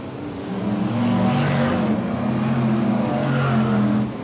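A BriSCA Formula 1 stock car at King's Lynn in 1994 roars down the back straight, its engine swelling up loud and holding a rough, steady growl before dropping away.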